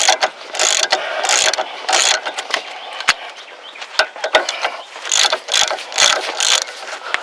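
A hand ratchet works the nut off the lower ball joint of a Ford Taurus, with repeated close, rattling bursts of clicking pawl strokes broken by short pauses and sharp metallic ticks.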